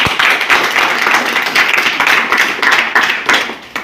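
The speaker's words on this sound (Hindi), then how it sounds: "इस बात पे ताली बजाओ।" A crowd claps steadily and loudly throughout at a business plan meeting, dense continuous applause with slight rhythmic surges.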